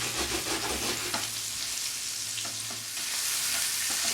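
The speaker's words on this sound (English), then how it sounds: "What I need to do here is get some color on the salmon, kind of sear it a bit." Salmon fillets sear in a pan with browning butter, giving a dense, continuous hiss and sizzle heard up close with no voices.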